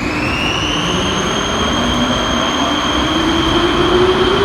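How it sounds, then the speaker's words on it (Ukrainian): An underground metro train pulls away from the station with a loud, continuous rumble and a rising electric motor whine, steady and close throughout. "Он поїхав поїзд метро, потяг метро."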